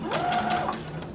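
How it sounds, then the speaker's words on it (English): A sewing machine runs steadily for about a second, stitching a waistband seam on an infinity maxi dress with a half-inch seam allowance. Its motor gives a close, even whir with no talking. "Lower your needle. Begin sewing."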